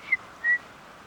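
A person whistles two short, high notes close by to call a hawk, the first a brief chirp and the second slightly longer, in a quiet setting.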